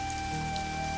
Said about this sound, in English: the rain falling in silver lines